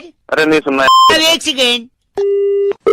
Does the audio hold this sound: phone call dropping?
yes